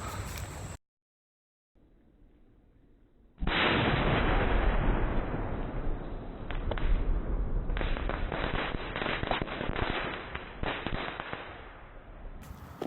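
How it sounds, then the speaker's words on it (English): An explosive charge blows apart a log with a sudden loud, deep blast after a brief quiet. A long rumbling roar with crackling debris follows and slowly fades, with no speech. "that was the explosion. As you can see, there's little pieces of the log everywhere"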